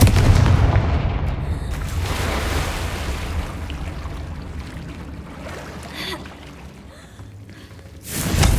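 A Confringo blasting spell goes off in the Hogwarts Legacy video game: a loud, deep booming explosion that rumbles and slowly fades, then a second sharp blast hits near the end.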